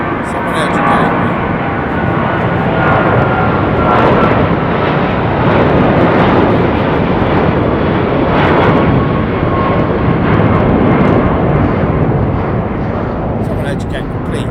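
A Boeing 777-200 airliner takes off at London Heathrow, a loud, steady jet-engine roar that fills the whole clip without letting up.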